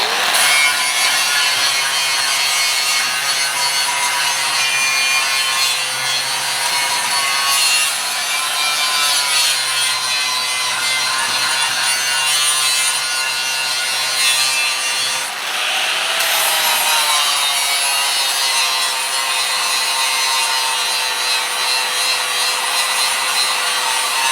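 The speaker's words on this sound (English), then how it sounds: "I'm going to grind some of this paint off real quick." A grinder strips paint off a galvanized steel hinge ahead of welding, a loud, continuous high whine held close up that dips briefly as the disc bites, with no talk over it.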